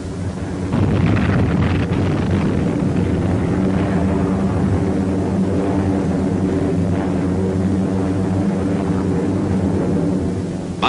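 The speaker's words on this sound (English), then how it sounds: "U.S. planes headed north to neutralize Rabaul." World War II U.S. military planes drone past in a loud, steady engine roar that holds for about ten seconds with heavy rumble and wind buffeting, and no voices.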